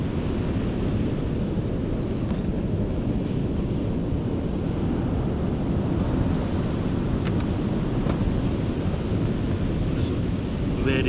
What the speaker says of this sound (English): Very angry looking sea behind me